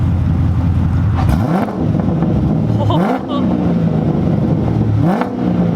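A Chevrolet Corvette C7 engine revs outdoors in three sharp bursts, each rising then falling back to a rumbling idle, loud and close with wind buffeting the microphone.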